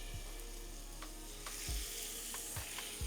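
Chicken sizzling in a pan with butter and garlic, a steady close frying hiss broken by a few scraping stirs and low knocks, with no talking.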